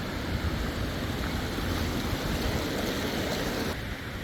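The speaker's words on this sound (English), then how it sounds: "looks like the spillway here at Trial Lake is flowing good" Water pours over the Trial Lake spillway in Utah's High Uintas, a steady broadband rushing roar that holds constant and fills the whole clip.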